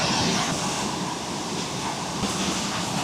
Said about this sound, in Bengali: আর সেই ঝর্ণার আওয়াজ, দুটো মিলিয়ে একেবারে ফাটাফাটি